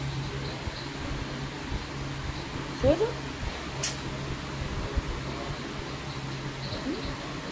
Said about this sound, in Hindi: पंखा की आवाज़ हुई, पंखा